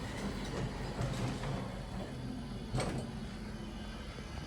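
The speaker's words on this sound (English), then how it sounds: "I can hear the other elevator car coming down." A Southern hydraulic elevator car travels down its shaft in a university hall, giving a steady low mechanical rumble and whir with a brief, slightly louder swell partway through, distant and unaccompanied by talk.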